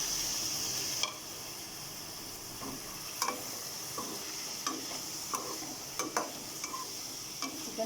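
Cubed chicken frying with garlic in a pan for chicken fried rice gives a steady soft sizzle, broken by scattered light clinks and scrapes of a spoon stirring against the pan, with no voices.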